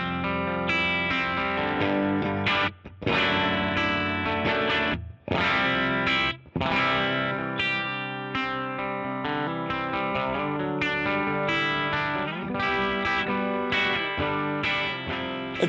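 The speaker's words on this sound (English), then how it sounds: "we're going to go through my V40 Duchess, Fendery type thing, I guess, running into the Boss Waza tube amp expander" Electric guitar through a Fender-style V40 Duchess amp into a Boss Waza tube amp expander with a stock 2x12 cab, playing sustained distorted chords and notes with chorus-like shimmer, a few brief stops, loud and alone.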